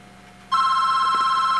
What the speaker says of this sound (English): apparently now the telephone's ringing.